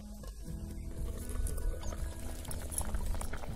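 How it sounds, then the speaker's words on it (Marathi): Brinjal and field bean curry bubbling in a covered pot, a steady low simmering burble with soft liquid gurgles throughout, close and continuous. "आता हे कालवण शिजायला लागलंय"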